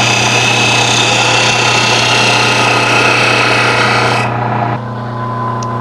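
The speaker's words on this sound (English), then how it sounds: "I suppose I could drill this out to its final dimension" A drill boring out a wood-turned piece spinning on a lathe gives a loud, steady grinding whir with a constant hum beneath, then cuts off sharply near the end, leaving a quieter motor drone.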